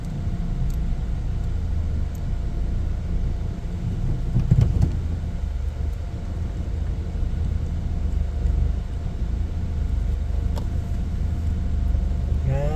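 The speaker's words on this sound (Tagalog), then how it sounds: "Traffic." Road traffic heard from inside a vehicle on a Santolan road trip, with a constant low engine and tyre rumble, a brief louder swell near the middle and no talking.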